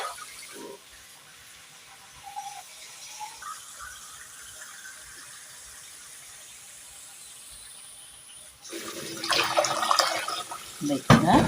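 Water poured into a pot of rice for cooking, a soft hiss and trickle building to a louder, splashing pour near the end, with quiet room noise before it.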